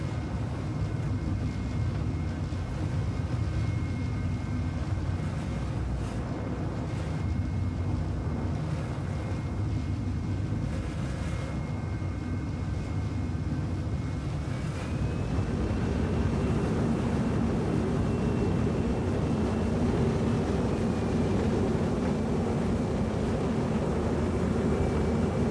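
A spaceship in the video game Star Citizen lifts off with a steady, airy engine rumble and windy hiss, a faint tone sliding upward partway through as the thrust swells slightly louder.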